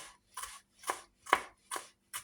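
Ingredients for a chickpea dish being finely chopped with a knife on a board, six crisp evenly spaced cuts in a steady rhythm, close and clear with no talk.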